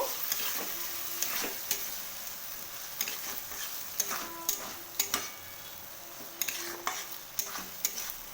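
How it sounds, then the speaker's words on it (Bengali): Potatoes and okra, already fried, being stirred with spice paste in a pan for a spicy okra-potato curry: a soft steady sizzle with repeated scraping and tapping strokes of a spoon against the pan, close and moderately quiet. "আলু আর ভেন্ডিগুলো অ্যাড করে দিলাম এবার মশলাটা খুব ভালো করে মাখিয়ে নেব"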